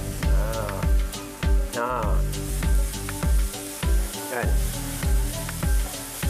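Loud, steady sizzling of onions and garlic frying in a pan, with regular scraping stirs every half second or so and a brief voice.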